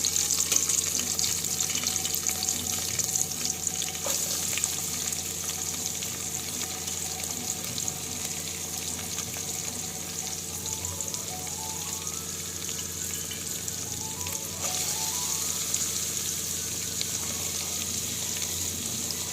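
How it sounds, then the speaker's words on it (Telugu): Chopped onions and green chillies fry in a pan for a drumstick milk curry. An even, continuous sizzle runs the whole time at moderate volume with a low background hum. No one talks. "ఇందులో ఆనియన్స్ పచ్చిమిర్చి కట్ చేసుకుని ఇందులో వేసేద్దాం."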